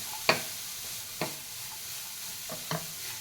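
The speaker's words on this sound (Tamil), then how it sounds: "நல்லா அந்த வாசம் வர வரைக்கும் நல்லா வறுத்துக்கோங்க கேரட்டு நெய்யில்" Carrot frying in ghee with a soft steady sizzle underneath, broken by three or four sharp scrapes and knocks of a spoon stirring the pan, spaced irregularly and heard close up with no talking.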